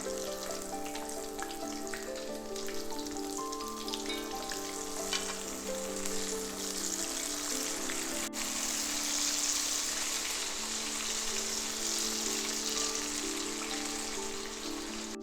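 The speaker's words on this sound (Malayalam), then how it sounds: "വെളിച്ചെണ്ണ തിളച്ച് തുടങ്ങി ഇനി ചിക്കൻ പറക്കിയിടാം" Chicken pieces fry in boiling coconut oil with curry leaves, giving a steady, loud, close sizzle that runs unbroken throughout, with a faint tonal hum layered beneath and no one speaking.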